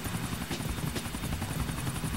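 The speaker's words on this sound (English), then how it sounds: "Yes, I know how to drive the damn helicopter." A helicopter flies in Grand Theft Auto IV, a steady, loud whirring rotor chop with continuous engine drone and no speech.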